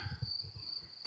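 Cicadas buzz steadily in Romanian countryside among rolling hills, a continuous high-pitched drone holding at moderate level with faint low rumble beneath, no voices.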